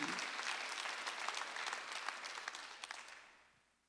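A church congregation at a Sunday worship service claps together, dense sustained applause that rolls on for several seconds and then fades out.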